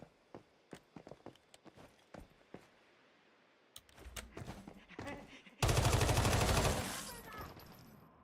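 In the shooter game Once Human, scattered single gunshots crack out sharply, then a denser cluster of shots follows and ends in a loud, sustained burst of rapid automatic fire close by.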